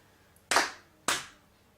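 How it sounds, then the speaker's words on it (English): Two sharp hand claps, close and crisp, about half a second apart, with nothing else around them, marking a rhythm exercise in a beginner music lesson. "we clap this last one. It's got a mixture of different rhythms in it"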